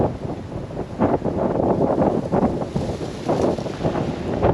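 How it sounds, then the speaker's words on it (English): Strong wind gusts roar through woodland and buffet the microphone in heavy, continuous waves that swell and ease over a few seconds, loud and close. "That is how windy it's gone."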